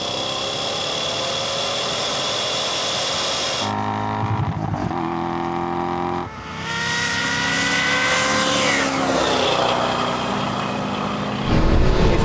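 Cars in a rolling drag race accelerate hard, their engines climbing through loud rising revs with shifts between gears, the roar staying close and dominant throughout.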